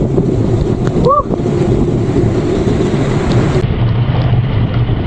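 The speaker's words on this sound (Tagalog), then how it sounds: "Sarap paglanti sa ulan!" Rain during a motorcycle ride through flooded roads in Santa Cruz, Laguna, heard as a dense, steady wash of wind and water noise buffeting the microphone, with a brief chirp-like tone early on.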